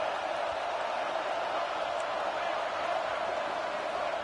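A stadium crowd in a college football video game roars during a first-and-goal play, a dense, steady wash of crowd noise that stays level throughout.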